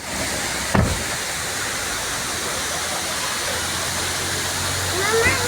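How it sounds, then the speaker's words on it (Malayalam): A waterfall on a road trip between Pala and Theni roars as a constant, dense rush of falling water, loud and unbroken, with a brief thump near the start. "വാട്ടർഫോൾസാണ്. നല്ല ഭംഗിയുണ്ട് കാണുമ്പോൾ തന്നെ."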